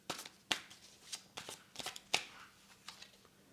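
Tarot cards are laid down one over another on a table, giving a series of quiet, crisp slaps and papery swishes in an irregular rhythm, close and without talk.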